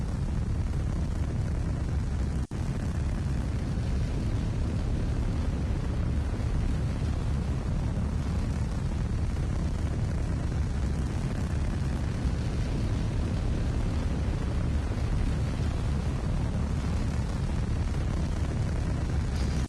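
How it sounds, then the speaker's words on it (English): Sustained heavy low roar of a solid rocket booster burning during a launch in the Roblox game Gemini Space, a dense continuous rumble at steady loudness with no talk over it. "The solid rocket burn, as we're continuing to do now, is remaining nominal."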